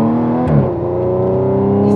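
Supercharged Audi S5 with 480 hp accelerating hard, a loud, steady engine drone whose pitch dips briefly then climbs smoothly with no pause, heard close and alone.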